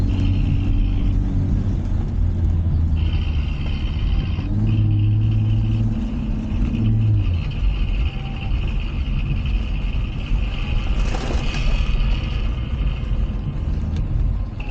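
Inside the cabin of a 2023 BMW M440i xDrive, a steady deep engine drone and road rumble continue at moderate loudness, with the pitch shifting slightly as the car drives along.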